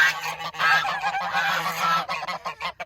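A goose honks loudly and repeatedly at close range, a dense run of harsh nasal calls with brief gaps and no talking.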